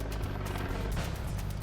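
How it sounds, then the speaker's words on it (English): A helicopter flying aerial surveillance over a tense street scene between rival motorcycle clubs produces a steady, dense rotor drone with faint rhythmic chopping, continuous and fairly distant, with no speech. "ICE, U.S. Immigration and Customs Enforcement, lends a helicopter for aerial surveillance."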